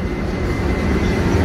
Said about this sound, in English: we got the train, on the commuter train